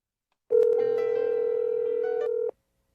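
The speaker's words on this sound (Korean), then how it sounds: "보시는 것처럼 일반적인 내선 번호로 전화 걸리는 걸 볼 수가 있고요" A steady telephone tone lasts about two seconds as a Webex client dials an internal extension. It is clean and electronic with a sharp start and stop, and there is silence on either side.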